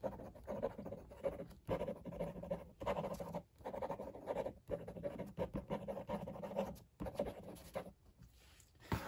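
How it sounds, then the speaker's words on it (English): Close, quiet scratching of a fine Pilot Custom 74 fountain pen nib on paper in short strokes separated by brief pauses, a light papery rasp throughout. "You can hear a hint of feedback on this nib, but it is smooth."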